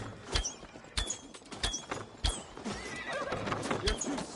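Horses in Assassin's Creed Valhalla whinny and neigh while hooves clop in uneven bursts, several sharp hoofbeats and calls rising and falling over a faint background, with no speech.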